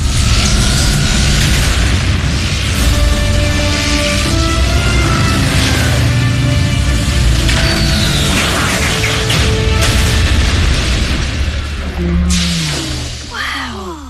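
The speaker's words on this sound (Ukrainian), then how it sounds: "Що це був за вибух?" Explosion in the animated series Transformers Prime, a loud sustained booming rumble with crashing, mechanical debris noise running throughout, fading slightly toward the end.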